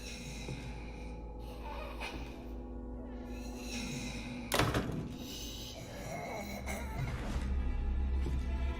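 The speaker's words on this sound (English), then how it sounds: "as soon as we get stuck, we hear loud banging" In Resident Evil 7, a heavy bang echoes from upstairs, a sharp thud cutting through a dark, droning game score, with a few softer knocks around it.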